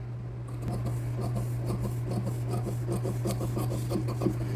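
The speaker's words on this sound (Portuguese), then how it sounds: "Olha aqui, ó, como é que eu tô cortando com a pontinha da tesoura pra poder fazer as curvas." Close, continuous scraping and rasping as a scissor tip cuts curves through thin fabric for an Easter chocolate holder, with a steady low electrical hum running underneath.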